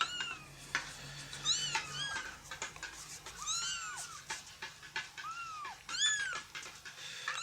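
An orphaned baby stray kitten meows repeatedly, high thin cries close to the listener coming in quick irregular bursts over quiet background rustling.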